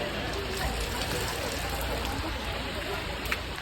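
Rain falling in the hills at Kodaikanal amid mist, a dense steady hiss of drops that fills the whole stretch at an even level with no breaks.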